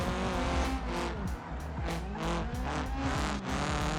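Tires squeal and skid loudly as a race car slides into a corner in the BeamNG driving game, with wavering screeches over a steady engine roar that holds close and continuous throughout.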